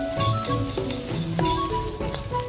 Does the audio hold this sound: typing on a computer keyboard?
no